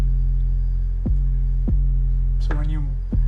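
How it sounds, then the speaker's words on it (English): A sub bass sample with a low cut filter applied, used in music production, plays as a loud, steady deep hum with sharp pulses recurring about every half second, the tone sweeping and shifting briefly near the end. "Sub basses are my favorite."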